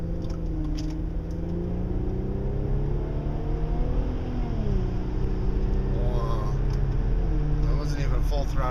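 A turbocharged car accelerates at full throttle, its engine droning steadily louder and rising in pitch through a gear change, while someone talks over it throughout.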